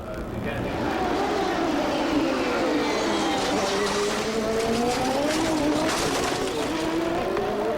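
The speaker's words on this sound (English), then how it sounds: "Boy, that was a big accident" A big crash involving a shattered CART race car at the 1996 Vancouver round: loud roaring engines with swooping pitch and tire squeal, continuous and close, while a commentator talks over it.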